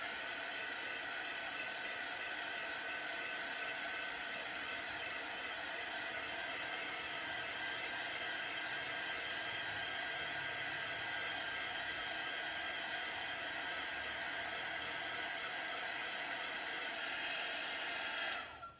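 A hair dryer blows continuously on a waxed chalk-paint craft piece, a steady close whooshing whine that holds for the whole stretch and cuts off at the very end.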